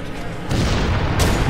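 Grenade explosions in a Crackdown 2 team deathmatch: two loud, heavy booms land one after the other, the second swelling into a broad rumbling blast.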